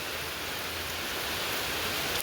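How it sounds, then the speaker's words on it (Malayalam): Rain falls in a home morning scene, a steady broadband hiss that is moderately loud and continuous with no speech over it. "മഴയാണ് ഗായ്സ് മഴയാണ്"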